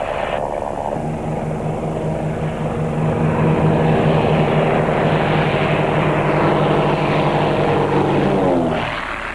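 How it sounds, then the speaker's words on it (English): Propeller aerobatic planes flying low in formation at an air show drone loudly and steadily overhead, a thick engine roar that swells slightly and holds for the whole stretch before easing at the end. "The two planes line up and descend."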